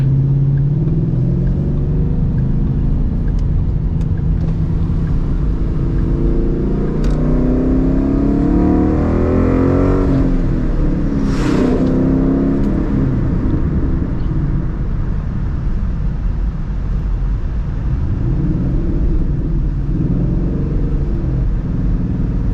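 A Ford Mustang GT V8 revs loudly through Corsa Xtreme exhausts, a deep rumbling roar that rises and falls, with wind buffeting the microphone.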